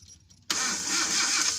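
A Mitsubishi L300 gas engine with a hard-starting fault tied to the ignition coil resistor block cranks briefly after a quiet pause and then catches with a sudden loud, steady roar, close by.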